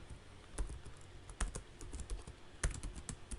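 C# code being typed on a computer keyboard, soft key clicks coming in quick irregular clusters with a few sharper taps, close but quiet, with no speech.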